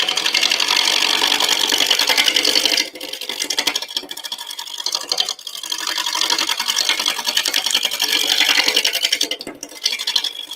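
A wood lathe turns a workpiece at around 700 RPM during a live turning demo, giving a steady, fine rattling whir that runs continuously, with a few brief dips.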